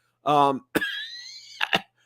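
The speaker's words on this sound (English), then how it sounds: "I still got this lingering cough here." A lingering cough comes as a few sharp, close bursts after a short voiced sound. Each burst is brief and loud against near silence.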